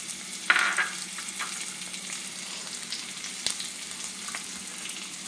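Crushed garlic and black pepper sizzle as they heat in a pan, a steady frying hiss with a sharp burst near the start and a few soft stirring scrapes, no voices.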